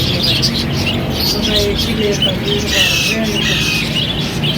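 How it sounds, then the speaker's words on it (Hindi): Parrot squawks and chirps ring out repeatedly over a busy background with people talking nearby at a bird market. "ये मियाँ मिठू, मियाँ मिठू, ये नहीं बोल रहा"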